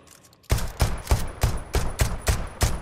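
Gunfire in the video game Deceit 2: eight loud, evenly spaced shots in a steady rhythm, each a sharp close bang, starting after a brief quiet moment.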